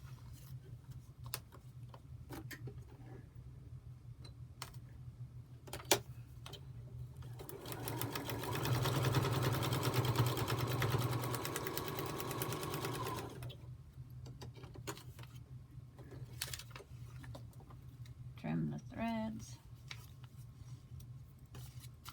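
A sewing machine stitches quilt pieces in one steady run of fast whirring and clattering lasting several seconds, framed by quieter handling clicks and rustles before and after.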